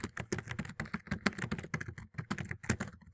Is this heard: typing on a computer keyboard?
yes